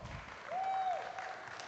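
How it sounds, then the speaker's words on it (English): Spectators at a Brown Swiss dairy cow show at the Kentucky State Fair applaud the senior two-year-old class, soft, distant clapping with a brief tonal whistle-like sound over it. "Let's give this class a nice round of applause."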